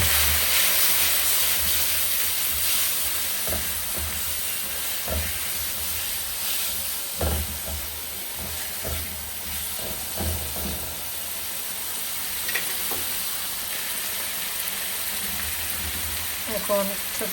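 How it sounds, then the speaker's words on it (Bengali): Shrimp fry in hot oil with turmeric and chili powder, a loud steady hiss and sizzle that runs throughout. Faint taps and clinks of a utensil sound now and then over it. "আমি এখন তেলে চিংড়ি মাছটা দিয়ে দিব। সাথে দিয়ে দেব হলুদের গুঁড়া আর একটু মরিচের গুঁড়া।"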